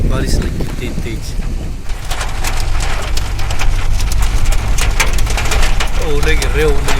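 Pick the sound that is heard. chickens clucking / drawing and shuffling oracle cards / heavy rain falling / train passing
heavy rain falling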